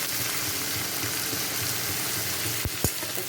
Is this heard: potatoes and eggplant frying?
yes